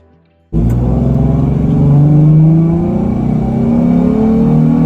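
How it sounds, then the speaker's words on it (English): Nissan 350Z on a test drive along a main road after a wheel bearing repair, a loud steady engine drone that starts abruptly and holds with gentle rises in pitch as it pulls along, no talk. "just out for our little test drive on the main road"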